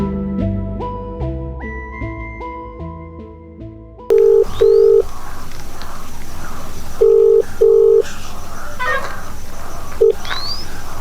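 A phone call being placed: a quick run of rising electronic keypad or ringtone notes, then repeated paired ringback tones in a steady on-off pattern over background noise.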